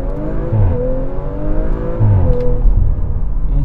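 An Audi RS4 engine revs up hard and close, its pitch climbing through gear changes with a loud throaty roar.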